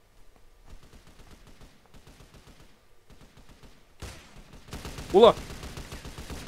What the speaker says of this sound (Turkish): herkes birbirini vuruyor